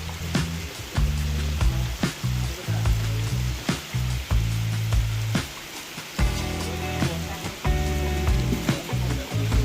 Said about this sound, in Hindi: झिप झिप वर्षा होची ब्यूटी ऑफ नेचर